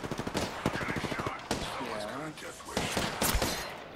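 Rapid gunfire bursts from the Apex Legends video game, with a player talking over the shots as they crack in quick clusters at the start and again near the end.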